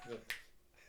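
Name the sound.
finger snapping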